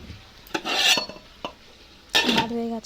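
Spicy chicken kosha stirred in a pan, a spatula scraping and clanking against the metal in a few loud, rough strokes with brief pauses between, close up over a light sizzle.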